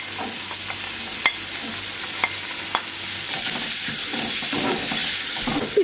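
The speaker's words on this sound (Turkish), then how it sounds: "Hafif yağla birlikte 1-2 dakika kavurmanız yeterli." Green peppers sautéing in butter in a frying pan for menemen, a continuous close sizzle broken by several sharp utensil taps and stirring scrapes.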